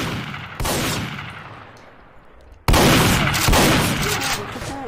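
Gunfire in a roleplay shooter game, with two loud, abrupt bursts of shots that echo and then fade, one early and a heavier one midway, each followed by lingering rumble.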